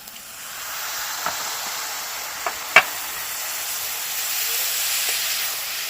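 Spices and vegetables sauté in a pan with a splash of water over a wood fire, making a soft, continuous hiss with a few scattered pops and crackles, fairly faint and without speech.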